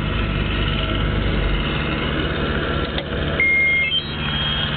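A Cat 320 excavator engine starts up and settles into a steady, loud diesel drone. A short electronic beep sounds near the end, and no one speaks.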